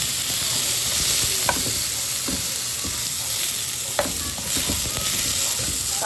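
Tomatoes frying in a pan with soy sauce added, giving a steady loud sizzle throughout with occasional clinks and scrapes of a utensil stirring, no voices.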